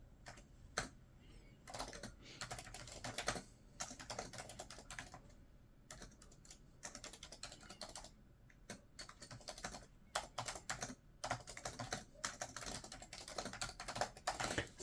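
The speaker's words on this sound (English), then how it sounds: "I'm accidentally pressing the keys underneath because the one underneath is also plugged in." Keys pressed on a Razer USB computer keyboard, a second keyboard also plugged in underneath: steady, close clicking and clacking of rapid typing, alone and continuous, with a few brief gaps.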